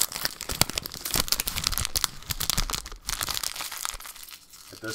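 Foil wrapper from an opened Pokemon card pack crushed and crinkled repeatedly in the hands up close, a busy run of crackles and rustles with brief pauses between squeezes.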